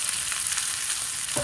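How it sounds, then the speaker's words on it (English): Cumin seeds and onions frying in oil, a brief, dense close sizzle with a faint clink near the end, no voices. "in this oil, I'm going to add a teaspoon of cumin seeds and then the onions"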